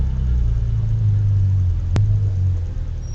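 Car engine rumbling loud and steady at close range on a practice track, with a low drone throughout and a brief sharp click near the middle.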